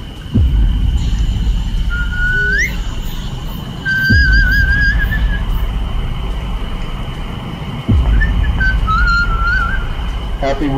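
In the horror video game Slender Claustrophobia, a person whistles short rising, wavering tunes in several phrases over a constant low droning hum, with heavy thuds now and then.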